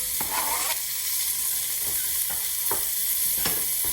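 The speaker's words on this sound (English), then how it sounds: "It's going to sound loud, sizzling." Chopped onions sizzle loudly in a pan of roux for lima beans, a steady frying hiss with a few sharp scraping strokes of a spoon stirring through it.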